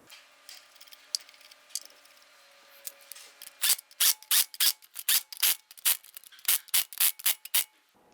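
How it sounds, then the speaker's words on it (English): Lug nuts being snugged down on a 2002-2008 Dodge Ram wheel, a quick series of sharp ratcheting clicks in close bursts after a few quieter scrapes, loud and near with no talk. "Once we have all these on, we're going to go ahead and snug them down."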